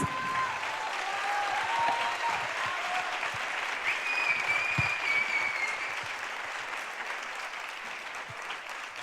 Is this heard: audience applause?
yes